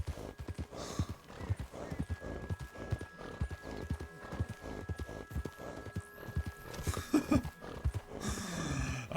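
A horse in Red Dead Redemption 2 snorts and breathes while its hooves clop in a steady, fairly close rhythm, and a louder, noisy burst of snorting rises near the end.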